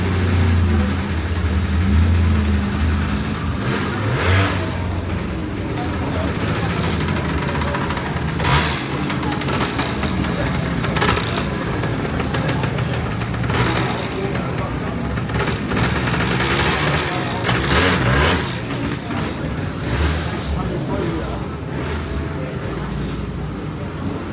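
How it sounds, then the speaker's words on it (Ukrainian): At a retro car festival in Germany, a vintage Opel engine revs and roars nearby in repeated surges over steady crowd and traffic noise, with people talking in the background. "Прикольная машина. Да, вообще супер прям. Опель."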